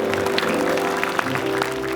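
A studio audience applauds Vega Delaga on a television variety show, with dense, steady clapping that fills the whole short stretch at moderate loudness.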